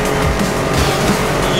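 Racing car in Need for Speed Most Wanted, loud roaring engine with tires squealing and skidding in a short burst, dense and close throughout.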